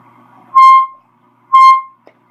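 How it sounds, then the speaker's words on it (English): Two loud, separate blasts from a handheld air horn, each about a quarter second long and about a second apart, followed by a small click in an otherwise quiet room. "That's an air horn."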